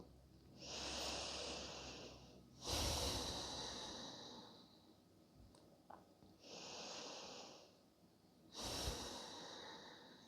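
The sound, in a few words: slow deep breathing during yoga meditation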